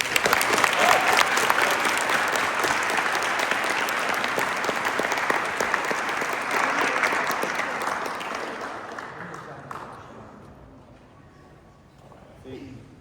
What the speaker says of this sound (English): applause for Cadet.